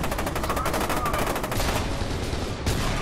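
Loud, rapid automatic fire from a mounted turret in the shooter F.E.A.R. 2, a dense continuous stream of shots filling the whole stretch with only a brief dip near the end.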